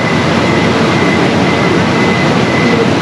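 A Mexico City subway train rolls along with a loud, steady rumble and hiss, continuous and close, without any talking.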